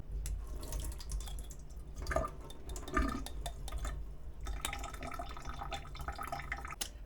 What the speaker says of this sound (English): we're going to drain all the liquid from this jar of 6-ounce fluid